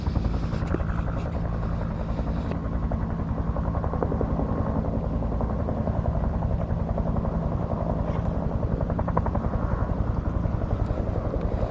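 A helicopter flies low and circles over the Superstition Mountains in Arizona, its steady rotor thump clearly audible throughout at moderate distance.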